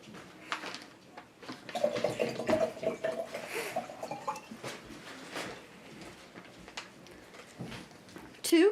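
Water poured into a glass jar while making a snow globe, a fairly quiet, uneven splashing and trickling that runs for several seconds and then tapers off.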